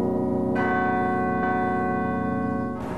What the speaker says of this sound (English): We have 53 cast bronze bells that are hanging from the